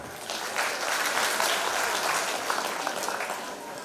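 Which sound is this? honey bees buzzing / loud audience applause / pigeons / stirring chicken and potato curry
loud audience applause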